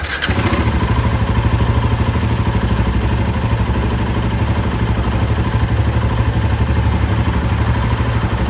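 A Royal Enfield motorcycle runs steadily after its engine head was replaced and new shims were fitted, the engine settling into a loud, close, even thumping idle with a faint mechanical clatter.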